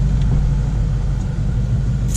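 A Ford Mustang GT 5.0 V8 engine idles with a deep, steady low rumble, close by and continuous, with no clear rev peaks.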